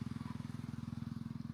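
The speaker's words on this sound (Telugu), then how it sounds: "వావ్, పెద్ద బైక్ ఇన్ను" A large motorbike passes on a road near a waterfall area, a low, rapid, pulsing engine thrum close by, steady across the short moment.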